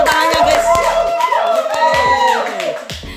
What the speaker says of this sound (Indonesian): Ya, tepuk tangannya guys.